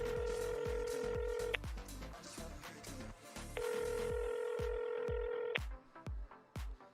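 A telephone on a livestream ringing in two long electronic trills separated by a pause, heard over a busy backdrop of thumping clicks and game noise, fairly close and clear.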